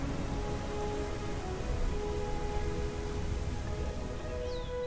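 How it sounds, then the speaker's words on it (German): Steady, dense thunderstorm rain in the video game Primal Earth hisses evenly throughout, a close, constant downpour with faint low rumble and a soft tonal hum beneath. "Oh, dieses Gewitter."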